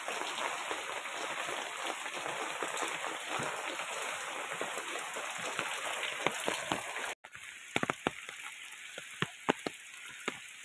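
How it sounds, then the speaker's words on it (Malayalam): Heavy rain pours steadily on the way to a family temple, a dense hiss with scattered sharp drips and splashes; the sound briefly cuts out near the middle and then resumes more sparsely. "നല്ല മഴയാണ് കേട്ടോ."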